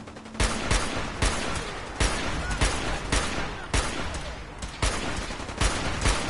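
Dense, sustained gunfire in Fallout 4 survival mode, loud and continuous with sharp repeated shot transients every half second or so, no talking.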